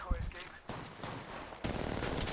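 Rapid gunfire in the Apex Legends Mobile battle royale, with loud bursts of shots that swell into sustained firing under a light voice.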